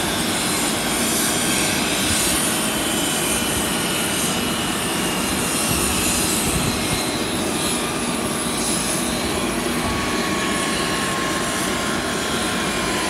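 Aircraft engines keep running on the ramp after a team charter lands at Gainesville, Florida, a loud, steady jet roar with a high whine throughout, close by and with no one talking.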